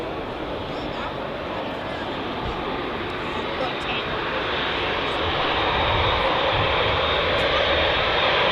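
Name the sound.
Etihad Boeing 787 Dreamliner jet engines taxiing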